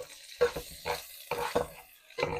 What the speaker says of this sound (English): Just gonna get that in there to let it sizzle.